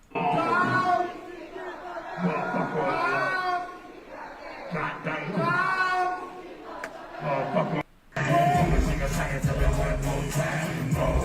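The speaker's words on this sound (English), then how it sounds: "do a call and response and get a crowd to respond to them like that" A large concert crowd answers in call-and-response, with loud massed voices chanting back in repeated surges and pauses between them, followed by a denser roar of cheering.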